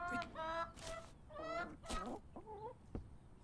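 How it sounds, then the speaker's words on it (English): Chicken clucking in the farming horror game We Harvest Shadows, a run of agitated squawks and clucks over a faint background hiss, with no talking. "Oh, my chicken."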